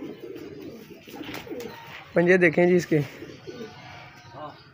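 Pigeons cooing, a burst of loud, rounded coos in the middle that stands out over someone talking in Hindi and softer bird sounds.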